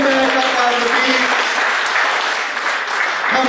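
Audience at a recognition banquet clapping loudly in a dense, sustained round of applause that fills the room and fades slightly at the end.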